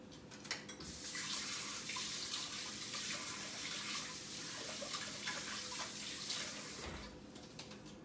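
Tap water runs steadily into a sink while vegetables are rinsed under it, a continuous close splashing hiss with small shifts as the produce moves through the stream.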